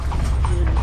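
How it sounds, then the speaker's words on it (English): Horse hooves clip-clop steadily as a horse pulls a carriage through the town of Esna, Egypt, close and continuous against a low rumble of street noise. "we are on a horse and carriage headed to a temple"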